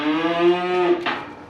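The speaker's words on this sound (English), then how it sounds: "cow was uncomfortable, and all night, flipping moo, moo, moo, moo, moo" A cow moos loudly and close by in one long, drawn-out call, a farm animal near a house on a winter morning.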